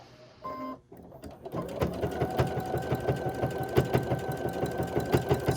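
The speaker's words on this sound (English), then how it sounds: "So we're doing this stitch. You can hear it pounding through the heavy knit." A sewing machine pounds out a narrow zigzag stitch through heavy knit fabric, starting after a brief pause and settling into a fast, even, rhythmic thumping with a steady motor whine, close and alone.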